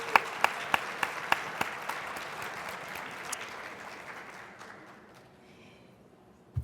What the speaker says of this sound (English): let's give our host mayor, Stephanie Rawlings Blake, another round of applause